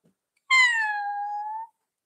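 A human voice imitates a cat's meow while telling a French fairy tale about a girl and a cat: one clear, drawn-out meow that falls slightly in pitch, heard alone against silence.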